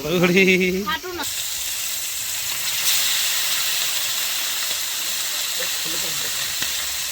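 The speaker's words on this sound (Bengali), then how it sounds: "বেশি তেলে মাছ ভাজা ভালো হয়" Fish fries in plenty of hot oil with a loud, steady sizzling hiss that runs for several seconds, after a brief voice at the start.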